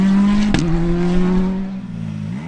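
A Hyundai i20 R5 rally car engine at a rally stage, revved hard and close, with a sharp burst of noise and then steady and falling engine tones that rise again at the end.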